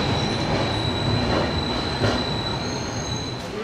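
A Sairang to Kolkata passenger train runs steadily with loud, continuous rail rumble and a sustained high wheel squeal throughout, no voices.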